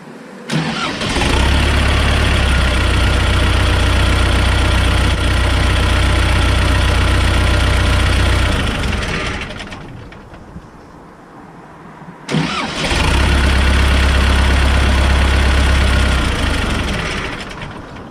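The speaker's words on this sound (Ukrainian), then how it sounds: "Стартер я поміняв. Пробуємо заводити, побачимо, який буде ефект." A T-40AM tractor engine fitted with a new starter cranks and catches quickly, then runs loud and close at idle. It fades out, then starts again and settles back into a steady heavy idle.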